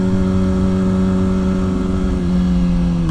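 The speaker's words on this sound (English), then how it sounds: "Bad downshift." A motorcycle engine revs and hums steadily during a bad downshift, its pitch dipping slightly near the end, loud and close with no talking.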